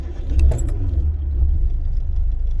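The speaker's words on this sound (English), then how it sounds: "I always enjoy the way the A-series engine starts" An Austin Allegro's A-series engine, heard close with a key jangle as it turns over, then catches and settles into a low, steady idle rumble.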